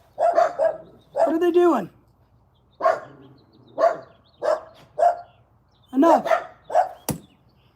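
Several dogs bark at people hanging around a fence, with sharp, close barks coming in bursts and short gaps between them, while a person's voice calls out over the barking.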